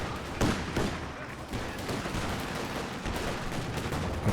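Sustained automatic fire rakes a half-track in a Company of Heroes 2 battle, a dense, crackling rattle of overlapping shots over steady battlefield din.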